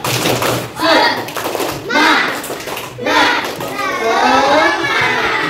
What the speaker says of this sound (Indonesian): Coba kita tepuk semangat dulu ya, semangat.